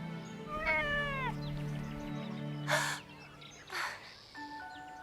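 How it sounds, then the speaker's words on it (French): An abandoned kitten in an animated cartoon meows several times, high and wavering, close by, with soft rustling bursts between the cries and faint tonal beeps near the end. "Moi, j'ai trouvé un chaton abandonné."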